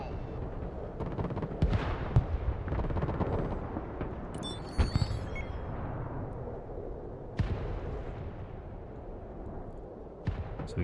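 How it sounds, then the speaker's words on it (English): Artillery fire in the Broken Arrow military strategy video game: scattered heavy booms and sharp cracks over a rumbling battlefield bed, irregular and mid-distance, with a few louder impacts spaced across the span. "Artillery ready to fire."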